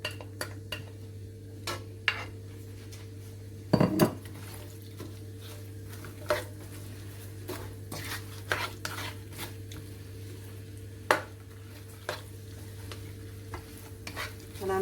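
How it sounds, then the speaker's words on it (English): Sliced onions fry for a chicken korma in a pan, giving a steady low sizzle while a utensil scrapes and taps against the pan at irregular intervals, up close. "Now I'm going to add my sliced onions."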